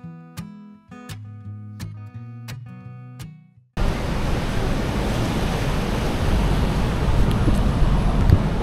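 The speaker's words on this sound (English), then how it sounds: "it's insane how strong the waves are right there" Strong ocean waves break and wash onto a tropical beach near Galle, Sri Lanka, a loud continuous roaring surf with wind noise that abruptly takes over after a quiet stretch of music-like tones.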